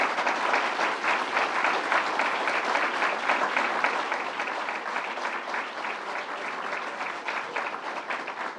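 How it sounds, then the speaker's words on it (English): An audience at a state bill-signing event gives a round of applause, dense and fairly distant, holding steady and then easing slightly in volume. "let's give them a round of applause"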